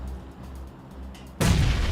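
A sudden loud grenade explosion booms in after quieter PUBG Mobile background noise, filling the sound with a heavy, sustained blast.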